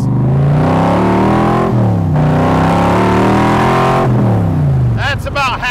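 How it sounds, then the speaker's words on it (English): A 1965 Shelby Cobra Backdraft's engine revved at about half throttle, loud and close, the rich roar climbing and falling back twice before a brief higher chirp at the end. "That's about half throttle. It's a rocket ship."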